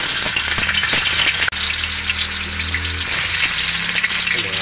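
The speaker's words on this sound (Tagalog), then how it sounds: "Siyempre prito natin yung ating tokwa." Tofu fries in hot oil with a loud, steady sizzle and crackle, punctuated near the start by clacking stirring sounds and a brief sharp knock.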